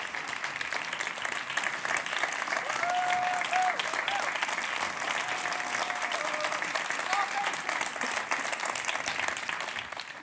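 An audience at a European youth award gala applauds the winners, a sustained, even wash of many hands clapping at moderate distance, with faint tonal sounds drifting underneath.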